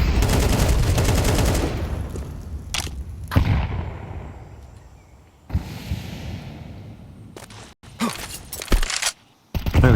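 Counter-Strike gunfire during a professional match between Spirit and HEROIC at IEM Cologne 2025 comes as a dense, loud burst of automatic rifle fire. Sharp single shots and short volleys follow, broken by brief gaps and shifting room noise.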